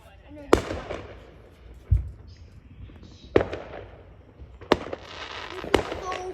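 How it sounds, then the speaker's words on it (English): Fourth of July fireworks bursting outdoors, about five sharp, loud bangs spaced a second or so apart, each followed by crackling, with faint crowd chatter between. "It's just fireworks. And there's fireworks."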